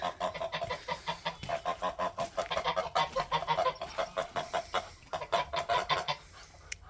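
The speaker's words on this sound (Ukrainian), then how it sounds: "нашу велику сіру гусочку" A flock of large grey geese honking and clucking in rapid, overlapping calls, close by and fairly loud, with steady barnyard chatter throughout.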